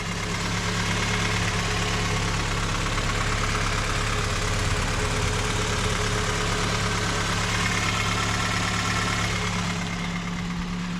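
A 1991 Toyota Camry engine with intake and exhaust tweaks runs at a steady idle, a continuous close droning hum with a faint rhythmic knock, unchanging and alone without speech.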